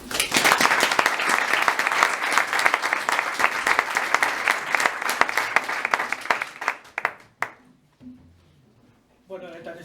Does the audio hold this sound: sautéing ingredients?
no